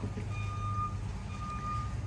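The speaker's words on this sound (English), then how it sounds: "Excuse the truck backing up." A truck backing up gives off two bursts of steady high reversing beeps over a low engine rumble, heard from outdoors at a moderate distance.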